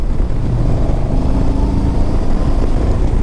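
A 2009 Yamaha 950 Tourer cruiser motorcycle drones steadily while being ridden, a loud, continuous low engine rumble mixed with wind noise and no pauses.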